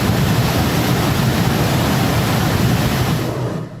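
Floodwater after a cloudburst during the monsoon in Jammu and Kashmir rushes in a loud, continuous roar that fills the scene and fades slightly at the end, with no voices.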